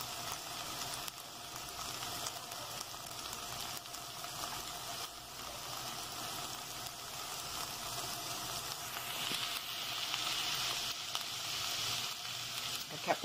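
Sausage frying with spring onion in a home kitchen pan, a steady soft sizzle that holds throughout and swells slightly toward the end, heard alone at a moderate distance.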